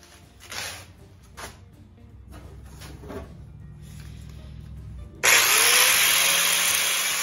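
Soft clicks and handling noises, then a power drill drilling holes in a 1940 Ford passenger door during rust repair suddenly starts up close and runs loudly to the end.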